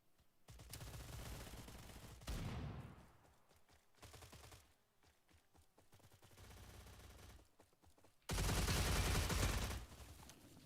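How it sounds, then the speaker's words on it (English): Rapid video game gunfire, bursts of automatic shots in several loud blocks separated by brief pauses, ending in a heavy sustained volley, with no talking. "I don't think my bullets are registering on him"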